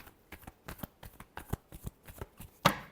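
Tarot cards being shuffled, a quick run of about a dozen crisp riffling slaps in an uneven rhythm, close and alone, ending with one louder final snap.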